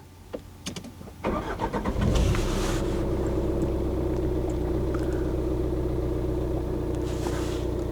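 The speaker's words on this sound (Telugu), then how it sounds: "కొంచెం డీజిల్ వెహికల్ అయిన తర్వాత లైట్గా సౌండ్ అయితే ఉంటుంది" A Tata Nexon diesel engine cranks and starts after a few clicks, then settles into a steady, even idle rumble that continues throughout.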